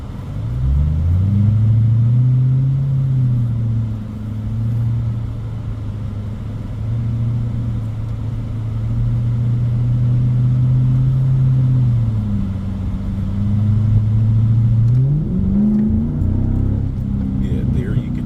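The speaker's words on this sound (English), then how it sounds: "Yeah, there you can hear the misfiring" A Mercedes CL63 AMG V8 with an M156 engine and a misfire hums as a steady low drone from inside the car during a slow drive, rising near the end as it speeds up.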